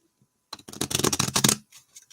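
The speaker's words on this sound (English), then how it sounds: "I'm going to shuffle these." A deck of cards is shuffled in one quick, close riffle burst lasting about a second, followed by a few soft card taps.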